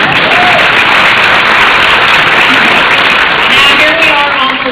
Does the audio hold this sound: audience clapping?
yes